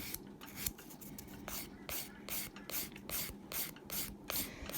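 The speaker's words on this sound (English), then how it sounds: "Flip it over and do down the sides. Make sure that you're only filing the nail." Hand file rasping along the sides of an acrylic nail in quick, repeated close strokes, a dry scratchy rhythm of roughly a dozen short passes with no talking.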